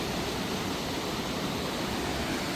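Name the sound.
Cascada Lotrisor waterfall, Romania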